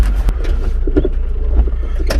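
A 4x4 mini-truck engine labors in second gear through deep snow, a close, rough low rumble with bumps and wind buffeting, no talking.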